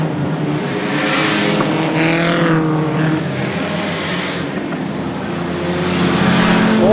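Stock saloon race cars racing at Ipswich in 1978, loud engines roaring and rising in pitch as cars pass close by one after another, a continuous dense motor din with no talk over it.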